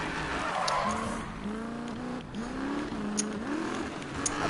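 Drift car sliding through corners in Need for Speed, tyres squealing in repeated rising and falling whines over a steady engine roar, loud and close with no talk over it.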